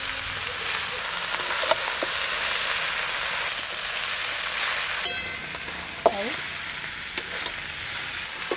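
Malabar spinach, potato and pumpkin pieces are stir-fried together in a hot pan, with a steady close sizzle broken by occasional scraping stirs.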